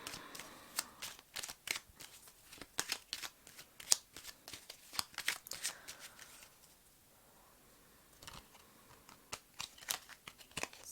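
Tarot cards are shuffled and drawn, a series of crisp riffling and slapping bursts in quick succession, close and quiet, with a brief lull before the card handling resumes.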